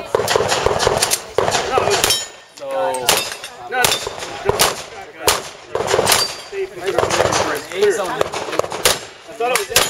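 A string of sharp, loud gunshots fires in quick bursts, each crack close and punchy, with short pauses between groups and a voice briefly heard between shots.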